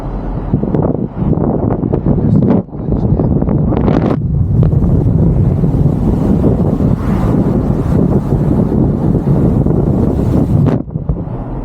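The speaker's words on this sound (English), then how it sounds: "A little bit of wind noise." Loud, continuous wind buffeting a microphone, a rough low rumble with gusty surges throughout and no talking.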